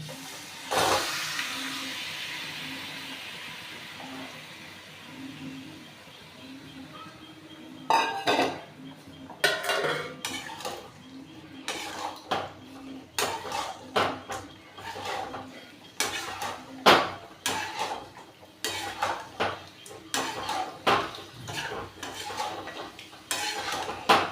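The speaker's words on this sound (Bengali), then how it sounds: "এইভাবে আমি নাড়িয়ে নাড়িয়ে ভালো করে কষিয়ে নিচ্ছি" Mutton browning in a pot of deep-fried onions for a Bengali red mutton curry, stirred with repeated clanks and scrapes of a spoon against the metal pot over a soft background hiss, with no talking.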